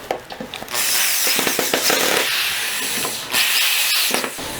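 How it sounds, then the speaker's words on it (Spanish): A power drill drives a screw into wood to clamp a router table guide, giving a steady, loud whirring drone with short bursts and pauses, heard alone. "Ahora sí, ya puedo meter el tornillo hasta agarrar la otra madera y ya quedará prensada"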